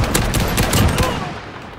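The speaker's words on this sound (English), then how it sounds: "And I'm still getting shot at." Call of Duty Warzone gunfire crackles as a loud, continuous rattle of rapid shots that fades slightly toward the end of a very short burst.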